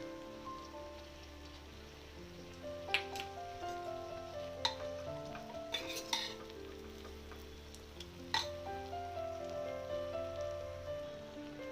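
Vegetables with ginger garlic paste sautéing in a pan for a Bhogi sabzi, giving a soft steady sizzle with occasional sharp clinks of a spoon stirring, faint and close with no talking.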